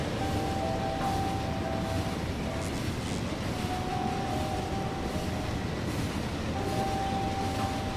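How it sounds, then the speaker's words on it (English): A train in the video game Factorio sets off, giving a constant rolling rumble with a faint tonal hum laid on top. The sound is loud and continuous throughout, with no voice over it. "I don't want to risk staying on the train when it sets off again"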